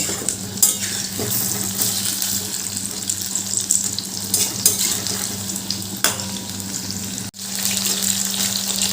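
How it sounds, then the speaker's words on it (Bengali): Spiced marinated chicken pieces fry in hot oil in a wok while being turned over, a continuous close sizzle with soft scraping and clinks of a spatula, briefly cut off near the end. "এইভাবে উল্টে পাল্টে লাল লাল করে ভেজে নিতে হবে"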